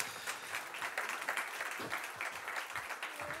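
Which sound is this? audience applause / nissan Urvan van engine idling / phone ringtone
audience applause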